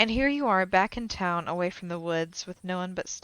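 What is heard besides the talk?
None of the usual background noises is heard.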